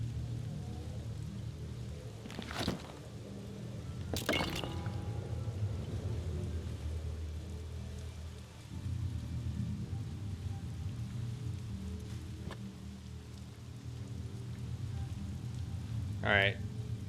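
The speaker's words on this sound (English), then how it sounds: "It's raining." Steady rain falls in the Shadowgate 2014 video game, a continuous soft patter running the whole length with a few brief sharper sounds over it. No speech.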